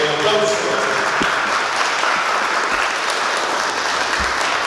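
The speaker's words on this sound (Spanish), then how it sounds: "Aplauso para esta pareja, marido y mujer, para siempre." Wedding guests in Ahuehuepan, Guerrero applaud the newly married couple, with loud, close, dense clapping that holds steady for the whole stretch.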